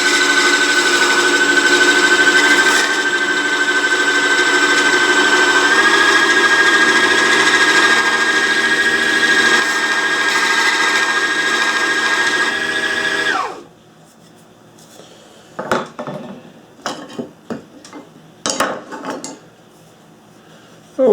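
A motorized grinder on a homemade tool sharpening station runs with a steady loud whine while a chisel is pressed against it for about 13 seconds, then it cuts out, followed by scattered clunks and handling knocks.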